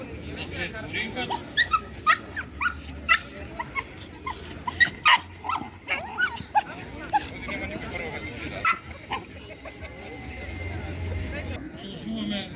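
A dog barks in short yips and whimpers repeatedly at a children-and-dog wrestling show event, the bursts close and loud over a busy background where people are talking.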